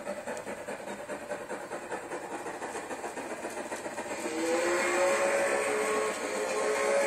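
A Heisler steam locomotive, number 102, rumbles and clatters steadily, then from about four seconds a loud sustained whistle tone rises and holds to the end.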